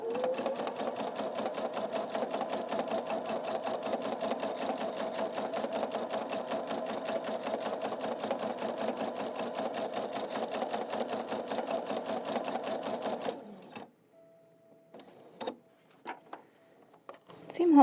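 A sewing machine stitches a quilt in a fast, even mechanical rattle, close and steady for about thirteen seconds before stopping, leaving a few faint clicks and handling noises.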